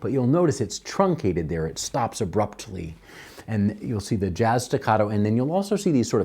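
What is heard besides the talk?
None of the usual background noises is heard.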